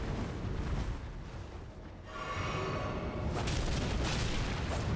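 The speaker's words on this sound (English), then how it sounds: "you're going to breathe fire at me instead" A boss in Elden Ring at Siofra River breathes fire: a heavy, roaring broadband rush with a deep rumble that dips briefly, then surges back louder and sustained.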